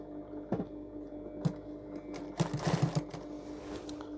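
A sewing machine stitches the top seam while a trouser zipper is being replaced, giving close mechanical ticking and short bursts of needle clatter in uneven spurts over a faint steady hum.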